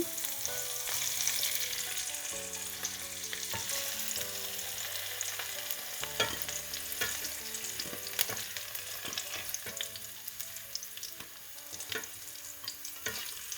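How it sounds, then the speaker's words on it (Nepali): Vegetables frying in a pan for a mixed vegetable dish, a steady close sizzle with stirring scrapes and light utensil knocks throughout, no voices. "अब यसलाई पनि त्यसै गरी हल्का ब्राउन हुने बेलासम्म फ्राई गर्नुपर्छ।"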